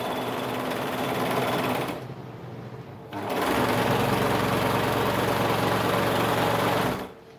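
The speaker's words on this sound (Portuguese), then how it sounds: "eu só tô passando no overlock pra dar mais uma acertada" An overlock sewing machine stitches a poncho in two bursts of fast, steady mechanical whirring, close and clear. The first run stops briefly before a second, longer run resumes.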